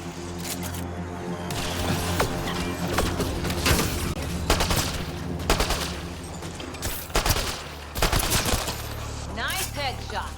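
Gunfire in the video game Mass Effect Andromeda: loud bursts of rapid shots and single cracks come in repeated volleys, with short gaps between them, over a constant low background.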